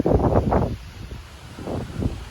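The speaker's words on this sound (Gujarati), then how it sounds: "પવન એક ધારો ચાલુ જ છે" Strong wind of a storm on a farm buffets the microphone in heavy, low rumbling gusts that swell and ease without pause.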